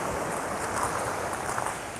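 Black Sea waves wash onto the beach at Constanța, a constant rushing surf mixed with gusty wind buffeting the microphone, no talking.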